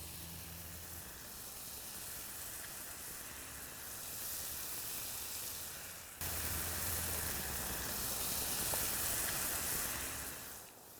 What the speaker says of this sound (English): Next thing we're going to cook up is some bacon.